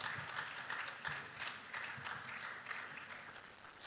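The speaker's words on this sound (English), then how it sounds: "Please clap, please clap, please clap" Conference audience applauding at a generative AI business panel, a steady, fairly faint wash of clapping that continues without a break.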